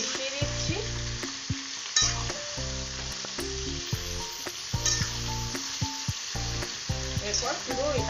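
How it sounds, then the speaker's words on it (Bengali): Brinjal pieces frying in oil in a pan with salt and turmeric, a steady close sizzle broken by repeated stirring scrapes throughout, with no talking. "এইভাবেই আমি এটাকে ভেজে নিচ্ছি। নুন হলুদটা ভালো করে মিশিয়ে দিচ্ছি।"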